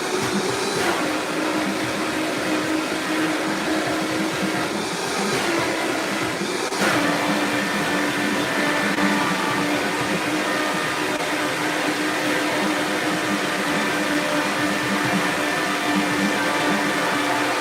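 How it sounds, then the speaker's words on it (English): Steady, loud whirring of a blender motor blending thick chocolate cupcake batter, running continuously without pause, close by, with no talking. "Put it on your blender, load it up."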